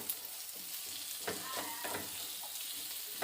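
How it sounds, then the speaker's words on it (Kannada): Tomato frying in a hot pan for pepper chicken made with country chicken, a constant close sizzle with a few light scrapes of stirring. "ಟೊಮೆಟೊ ಕೂಡ ಒಟ್ಟಿಗೆ ಹಾಕಿಬಿಟ್ಟು ಎರಡು ಕೂಡ ಫ್ರೈ ಮಾಡುವ"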